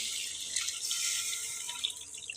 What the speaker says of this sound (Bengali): জলের পানি দিয়ে দিলাম।